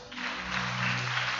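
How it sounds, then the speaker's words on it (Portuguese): A church congregation claps together in steady, dense applause that carries throughout, with no talk over it. "Eu quero que a igreja levante as suas mãos e aplauda ao Senhor."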